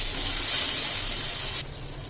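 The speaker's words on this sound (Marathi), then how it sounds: "कांदा पण असं मी छान लाल होईपर्यंत भाजून घेते" Chopped onion roasting in a little oil in a pan gives a steady, close hiss of sizzling that drops noticeably quieter about three quarters of the way through, with no voices.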